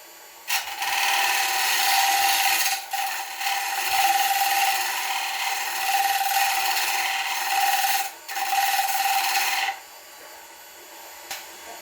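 A 3/8 bowl gouge, used on its side, tidies the rim of a wooden bowl spinning on a lathe, giving a loud, steady broadband scraping hiss in several long passes with brief pauses between them.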